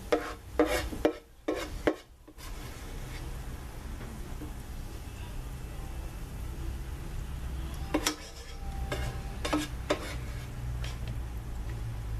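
Onions and potatoes frying in grease in a pan for a working man's breakfast, a steady soft sizzle broken by a few louder scraping stirs of the pan near the start and toward the end.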